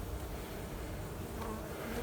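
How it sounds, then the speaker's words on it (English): Bees buzz around old soffit vents on a house, a faint continuous insect drone mixed into steady outdoor background noise. "But we got bees coming and going all over the place, going in old soffit vents with probably bad screens on them."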